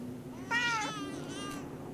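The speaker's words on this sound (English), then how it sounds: "I hear cats and babies." Two plaintive cat meows sound in the horror video game The Park, the first louder and wavering, the second thinner and higher, over a low background hum with no talking.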